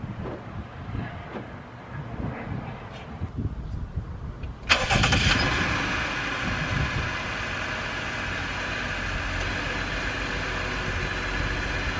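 Jeep engine cranks and catches with a sudden loud start, then settles into a steady idle, preceded by quiet shuffling and a little talk.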